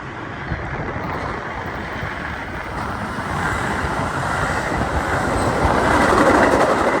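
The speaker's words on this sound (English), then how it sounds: "The next train was a Metra pushed by a single F40PH-2." A Metra commuter train pushed by a single F40PH-2 diesel locomotive rolls past, a loud steady rumble with wheel clatter that swells gradually as the cars draw nearer.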